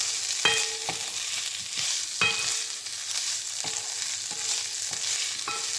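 Thai green chicken sizzling in a hot pan, a steady close frying hiss broken by several sharp clinks and scrapes of a utensil stirring against the pan.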